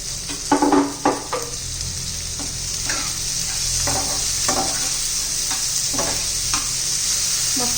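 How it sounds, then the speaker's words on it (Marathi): Finely chopped tomato hits frying onions in a pan, with a loud steady sizzle and a rhythmic run of spoon scrapes as it is stirred. "त्याच्यात आता आहे ना, मी एक टोमॅटो बारीक चिरून घेतलेला आहे, तो घालून घेऊ."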